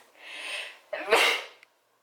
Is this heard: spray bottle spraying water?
no